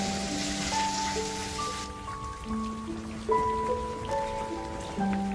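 Heavy rain falls as a dense hiss over a village near Gujranwala, Pakistan, with sustained tonal notes layered over it throughout.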